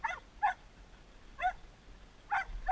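Dogs bark on a cattle ranch while a small maverick bull is tied to a tree: about five short, sharp barks at uneven intervals, fairly close, with no talk between them.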